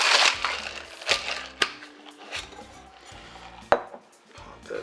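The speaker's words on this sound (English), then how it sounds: "give it a good pound, and give it a good shake." Ice rattles and knocks inside a cocktail shaker while a Champs Elysees cocktail is mixed, first pounded with a few sharp thumps, then shaken in uneven bursts of clattering, close and fairly loud with no talking.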